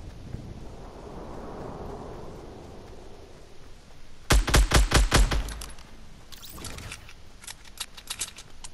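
A minigun in Fortnite fires one short, loud, rapid burst of shots, then a few scattered fainter bursts follow over quiet wind-like game ambience.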